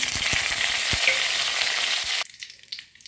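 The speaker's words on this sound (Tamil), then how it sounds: "இப்போ கடுகு பொரிஞ்சு வரும்போது கருவேப்பிலை போட்டுக்கலாம்" Mustard seeds and curry leaves splutter in hot oil for an egg kulambu, a dense close sizzle scattered with sharp crackling pops that drops abruptly to a quieter, sparser crackle near the end.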